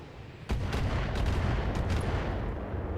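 Mech weapons fire back in the Battletech video game, a loud burst of booming gunfire and artillery-like shots that starts abruptly and continues over a rumbling background.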